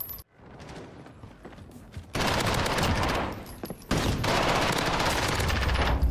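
A P90 submachine gun in Call of Duty Modern Warfare multiplayer fires loud, rapid, sustained bursts, with a brief gap between two long streams of fire after a quieter opening.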